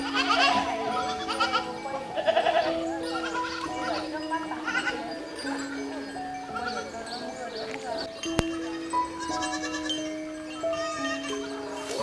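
Free-range goats on a farm in Hai Duong, Vietnam, bleat intermittently at a distance under steady music and someone speaking.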